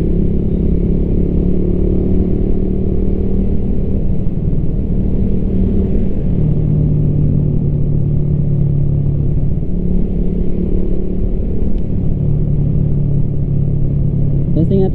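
A stock motorcycle engine fitted with a Koso 28mm carburetor and 115 main jet runs steadily close by, a loud continuous mid-low drone with slight rises and dips, with a voice talking over it at times.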